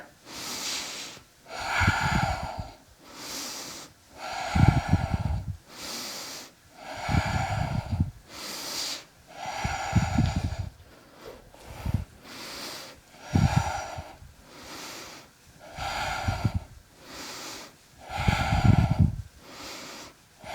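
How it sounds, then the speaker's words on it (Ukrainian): Deep rhythmic breathing during a full-body exercise routine, strong inhales alternating with forceful exhales in a steady cycle of about two seconds, close and breathy with no talking. "Вдих, видих, вдих видих, вдих, видих, вдих, видих."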